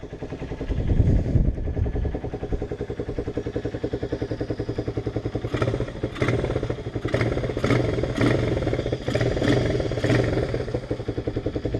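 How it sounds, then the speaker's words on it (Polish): A Romet K 125 motorcycle engine with a sports air filter and a carburettor lacking an accelerator pump idles loudly nearby, then is revved in a series of sharp throttle blips in its second half. "Teraz Wam pokażę reakcję na gaz."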